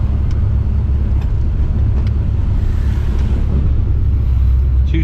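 A procharged Pontiac GTO idles after running hot, giving a steady, close, low rumble with a broad wash of noise over it and no change in pace.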